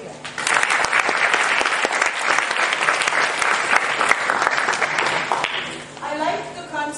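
A conference audience at IES-2010 applauds students whose posters are being released. The clapping is loud and sustained, then fades as a voice begins to speak.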